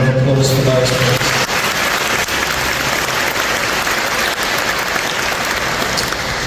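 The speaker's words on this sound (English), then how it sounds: "Can we have a round of applause for those," A hall audience at a citizenship ceremony claps in a steady, dense round of applause that holds evenly at full strength from start to finish, with a brief voice at the very beginning.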